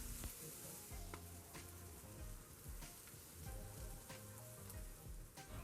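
Curry powder fries in a pan for a coconut curry tofu, a steady close sizzle with scattered stirring clicks and scrapes, quiet and without talk.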